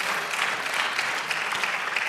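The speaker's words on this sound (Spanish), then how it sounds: "No la dejen sola, den aplauso al Señor." A church congregation claps together in a brief, fairly soft but continuous round of applause with a few sharper individual claps standing out.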